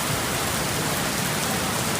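Heavy rain pours steadily during Typhoon Wipha in Hong Kong, a dense, unbroken hiss of water with no voices.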